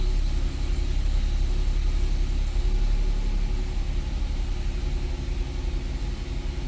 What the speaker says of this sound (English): The motor actually sounds reasonably smooth.